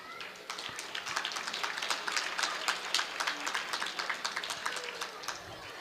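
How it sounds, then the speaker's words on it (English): Audience clapping at the Ottawa Tamil Association's Tamil Heritage Month Gala, a steady mass of many hands filling the room with dense, even patter for several seconds. "All of our MCs did an excellent job and deserve the biggest round of applause."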